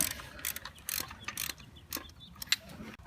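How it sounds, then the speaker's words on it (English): A ratchet loosens a 15mm alternator bolt on an 2003–2004 Ford Mustang SVT Cobra engine, giving quick bursts of close, faint clicking with irregular pauses and no talk. "on the top it's a 15mm bolt, and we're just going to break it loose enough so that we can swivel the alternator up and down"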